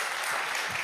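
Audience at a televised political debate applauding, a brief dense burst of clapping that fills the moment evenly.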